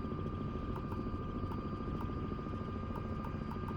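An Airbus A330-200 airliner in Microsoft Flight Simulator gives off a steady, dense engine drone that holds constant throughout, with no talking.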